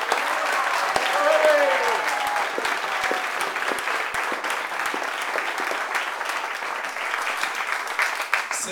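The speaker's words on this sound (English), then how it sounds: "How about a big round of applause for Julie?" An audience claps loudly and continuously at a birthday party speech, steady applause with scattered sharper claps, mixed with faint voices.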